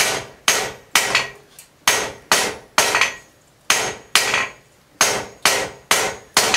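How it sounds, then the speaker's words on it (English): A hammer pounds hot steel on an anvil while forging a Dutch oven lid lifter, about a dozen loud, sharp, ringing blows in a steady rhythm, each decaying quickly, with no talking. "just going to pound those corners down and get this thing to a round."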